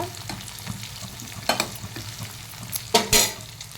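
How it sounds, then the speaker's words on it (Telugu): Oil sizzles and crackles steadily up close while a spoon stirs a tempering of spices and onions for dal, with a few louder bursts of frying near the end. "ఎంత బాగా వేగింది చూసారా పోపు"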